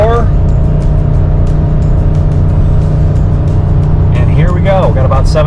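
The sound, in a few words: Nissan Armada at full throttle towing 7,000 pounds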